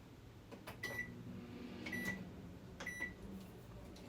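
A microwave oven hums steadily while heating butter to melt it, a faint continuous drone broken by a few short beeps.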